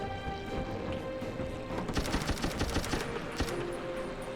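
In the video game Brew Barons, gunshots fire at apples on an apple tree. A dense, crackling cluster of quick shots and impacts sounds over a steady background drone, then thins out near the end.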